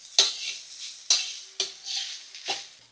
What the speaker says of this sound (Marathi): गॅस मोठाच ठेवू आणि याला चांगलं 2 मिनिटं परतून घेऊ.